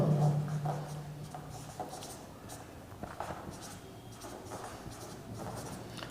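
Chalk or marker scratching across a board in short strokes while a vector cross-product lesson is taught, with a lecturer's voice running faintly underneath.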